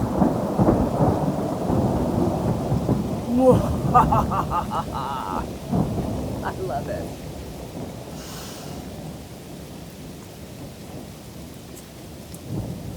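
Thunderstorm with rumbling thunder and steady rain on surfaces, the loudest rumbles early and then easing into softer rain and wind; someone speaks briefly over it.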